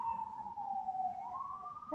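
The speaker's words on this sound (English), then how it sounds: "You probably can hear the sirens now." Emergency vehicle siren passing outdoors, a steady wailing tone that dips in pitch then rises again, fairly distant and moderate in level over faint background rumble, with no talking.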